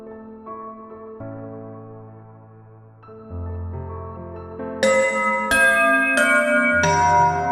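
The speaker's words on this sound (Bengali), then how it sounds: "সে আবার ঘণ্টা বাজিয়ে বলে" A magic bell rings in a Bangla cartoon fairy tale: a run of clear, sustained chiming tones that step upward and grow brighter and louder toward the end, with no voices.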